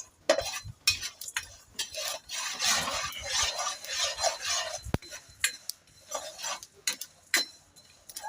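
Brinjal curry ingredients frying in a pan are stirred with a metal spoon, producing intermittent scrapes, clinks and taps against the pan over a faint sizzle, with no talking.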